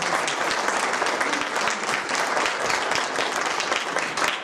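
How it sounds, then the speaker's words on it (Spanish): Audience applause fills a museum hall, steady and dense throughout with no pause, loud and close, a full crowd clapping continuously. "Vamos a premiarle ahí su presencia con una aplauso."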